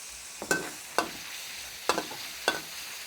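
Pork being stir-fried in a pan for a cabbage and sun-dried pork dish, with a low sizzle and four sharp scraping strokes of a spatula, close and fairly quiet.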